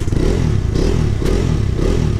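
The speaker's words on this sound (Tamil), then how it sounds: "இப்போ கொஞ்சம் ரிவ் பண்ணுற" Loud, close revving from a 2020 BS6 Bajaj Dominar 250 motorcycle with a double-barrel exhaust, a gruff bassy engine roar with rattly mechanical clatter that holds steady through short throttle pulses.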